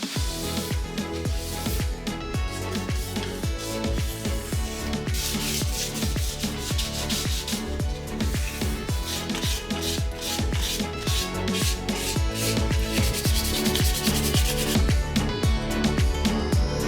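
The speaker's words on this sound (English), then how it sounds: "All right, the sanding is finally done." Continuous rhythmic rubbing of fine-grit sandpaper on wheels, brisk strokes repeating steadily and close, with faint music or tones running underneath throughout.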